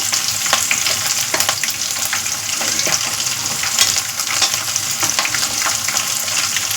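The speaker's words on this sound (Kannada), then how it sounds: "ಈರುಳ್ಳಿ ಮತ್ತು ಮೆಣಸಿನಕಾಯಿ ಎರಡನ್ನು ಹಾಕೋಬೇಕು" Onions and green chillies frying in hot oil for fried rice, a loud continuous sizzle with scraping stir strokes throughout, no voices.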